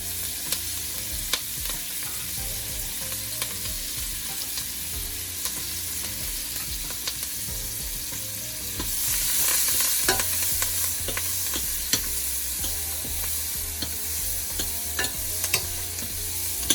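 Curry fish ingredients with onions, thyme and garlic are stirred in a pot, making close, continuous scraping and clinking under a low frying sizzle, with sharp utensil knocks scattered throughout.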